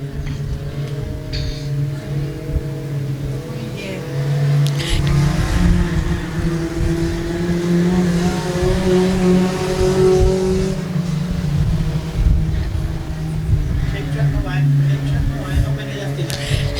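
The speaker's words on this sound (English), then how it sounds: "So Noakes will come complete another lap" Junior sedan race cars lap a track, their engines droning and rising as they pass at a moderate distance, under steady race commentary.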